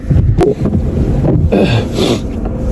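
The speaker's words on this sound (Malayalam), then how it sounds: "വിൻഡാണ് വിൻഡ് തേർട്ടി ആണ് തേർട്ടി കിലോമീറ്റേഴ്സ് പെർ അവർ ആണ്" Strong winter wind of about 30 km/h in Alberta, just below freezing, buffets the microphone outdoors with a loud, continuous low rumble and gusty roar.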